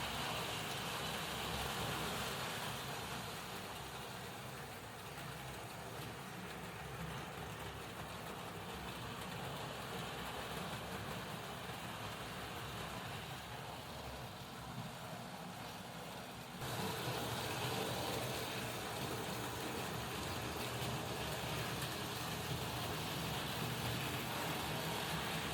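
Three DCC model railway trains circle a single oval loop with a steady, low, continuous whirring rumble that stays even throughout, softening slightly partway and then resuming.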